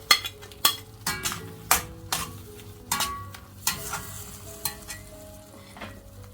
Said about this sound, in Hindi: मैं डाल रही हूँ अरबी इसमें।